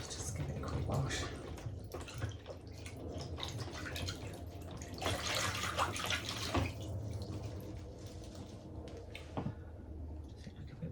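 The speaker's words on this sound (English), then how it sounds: "Let's just give it a quick wash." Tap water runs and splashes while a houseplant is washed during repotting, a soft continuous flow with drips and wet handling noises, fairly faint and close, with a voice talking at times.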